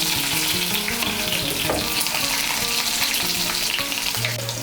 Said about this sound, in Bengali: থেতো করা রসুনগুলোকে হালকা করে ভেজে নেব।